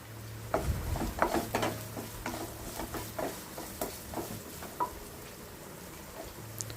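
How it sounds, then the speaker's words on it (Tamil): Chopped medium onion sautéing in a pan with a soft steady sizzle, broken by frequent scraping stirs and light clinks of a spoon against the pan. "சேர்த்து நல்லா வதக்கி விட்ருங்க வெங்காயத்தை."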